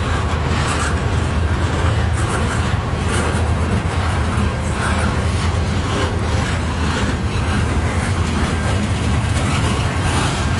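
A CN freight train passes in Port Huron, Michigan, a dense continuous rumble and rattle of rail cars rolling by close and loud throughout, with no clear voices.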